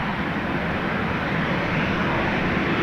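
A Ryanair aircraft at Dublin Airport gives a steady, continuous engine roar that stays loud and even throughout, with no voices.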